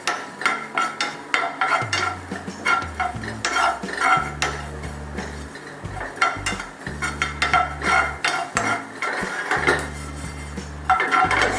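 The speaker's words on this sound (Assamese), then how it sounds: "1 চামুচ পান মছলা ভাজি ল'ম" Paan masala spices dry-roasting in a pan for stuffed bitter gourd, with a spoon scraping and clinking against the metal in steady bursts. The strokes come close and fairly loud, with light rattling between them.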